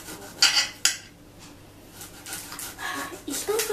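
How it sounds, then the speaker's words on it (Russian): Knife chopping an onion on a cutting board in a kitchen, a few sharp cuts early on, then quieter, irregular chops close by. "И продолжаем дальше резать лук."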